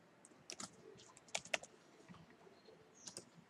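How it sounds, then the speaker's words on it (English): Quiet typing of a password on a computer keyboard: a few scattered soft key taps in small bursts, close but faint, with pauses between them. "So let me type my old password."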